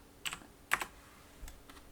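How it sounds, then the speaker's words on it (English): Computer keyboard typing, a few separate key taps in a quiet room, close and fairly soft with gaps between strokes. "we could just type in Candide"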